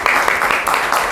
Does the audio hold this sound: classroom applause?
yes